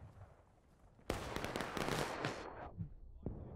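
Musket fire in the Civil War game War of Rights during an organized event: a sudden loud burst of overlapping gunshots cracking in rapid succession, then tapering off, with a lone later shot.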